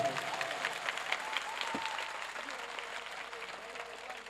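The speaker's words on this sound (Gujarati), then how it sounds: "તમારા તાળીઓથી વધાવો" A crowd applauds at a Sitaram devotional dhun mandal gathering in Surat, giving a dense, steady patter of many hands clapping close by that tapers slightly toward the end.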